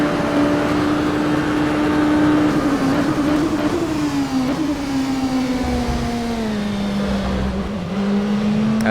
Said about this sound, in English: But now with a wounded car, well, wounded tyres at least, listen to that.